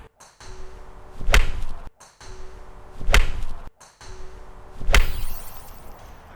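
Three sharp impacts of a golf club striking a ball during swing practice, evenly spaced about two seconds apart, each a crisp thwack followed by a brief rush of air, close and loud with no talk.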